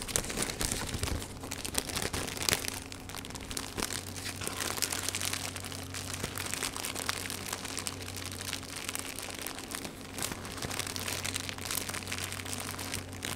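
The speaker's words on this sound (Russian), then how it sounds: "Приятный звук у пленки" Thin plastic film crinkles softly and continuously up close, a quiet stream of light rustling and crackling with no voices.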